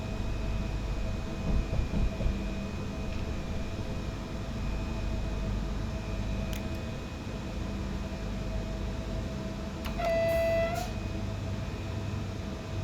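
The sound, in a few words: AI train passing in video game SimRail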